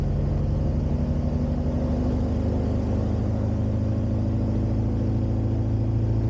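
A light aircraft's piston engine runs up to 1,700 RPM in a steady, loud, continuous drone with a low rumbling throb, holding constant throughout with no voices.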